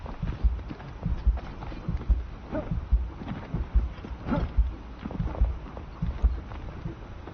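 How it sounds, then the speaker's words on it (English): A rhythmic low thumping heartbeat in Enshrouded, beating steadily and repeating throughout, muffled and close with faint background ambience. "I'm gonna go lay down so I can stop listening to my heartbeat"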